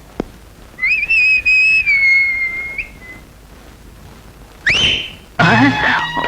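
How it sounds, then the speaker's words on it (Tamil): Shrill human whistling in a Tamil film scene: a long held whistle broken into a few pulses, then after a pause two sharp rising whistle bursts, loud and close. "என்னடா விசில் விசில் எல்லாம் பொறி பறக்குது?"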